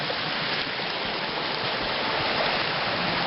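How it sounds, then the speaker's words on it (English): A small mountain creek flowing beside a trail, a steady close rush of water with an even broadband wash and no pauses, heard alone without voices. "Along the creek here, we just climb gradually. Beautiful little creek."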